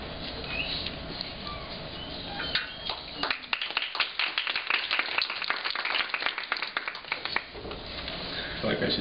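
An audience claps after a poetry reading, a scattered burst of hand claps that swells and fades over steady room noise, moderately distant and fairly faint.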